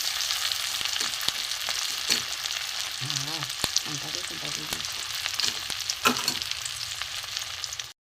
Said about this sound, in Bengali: রসুন কুচি দিয়ে দিলাম, টমেটো কুচি, পেঁয়াজ কুচি,